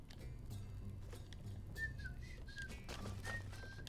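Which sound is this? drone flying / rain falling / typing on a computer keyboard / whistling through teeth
whistling through teeth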